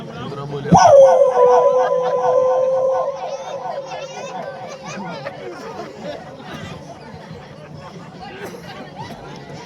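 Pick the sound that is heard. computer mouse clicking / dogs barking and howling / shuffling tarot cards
dogs barking and howling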